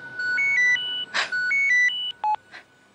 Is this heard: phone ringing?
yes